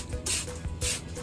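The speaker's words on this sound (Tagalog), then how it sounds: "Spray po natin" Microban disinfectant spray hisses from an aerosol can in two short bursts, close and clear, with a brief pause between them.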